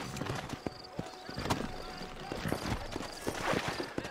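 Horses' hooves clip-clop in a steady walking rhythm in Red Dead Redemption, with a faint whinny, while someone talks over the hoofbeats.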